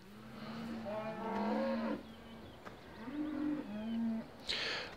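Cows in a farming video game moo repeatedly, low drawn-out calls in two or three overlapping bursts, fairly faint over steady background hum.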